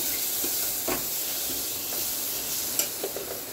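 Spices including cumin powder sizzle in hot ghee tempering with a steady bright hiss, broken by a few soft scraping stirs of a spoon in the pan.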